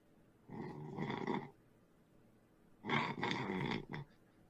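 A person snores twice, each a rough, raspy breath of about a second with a quiet gap between, close and faint, with no voices.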